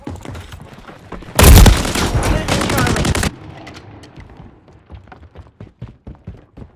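Automatic gunfire erupts in a Modern Warfare 3 beta match, a loud sustained burst of rapid shots lasting about two seconds, followed by scattered quieter pops and footsteps at a distance.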